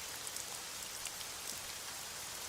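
Rain mixed with hail and sleet, a dense, steady crackling patter with small sharp ticks scattered throughout, like bacon sizzling.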